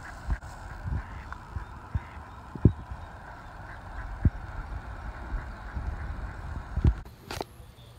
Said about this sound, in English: there's ducklings right here. That's what I'm saying, they're stuck.